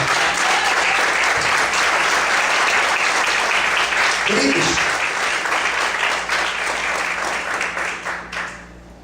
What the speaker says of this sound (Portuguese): Vamos aplaudir o Senhor de volta